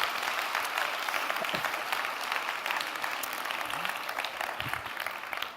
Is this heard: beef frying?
no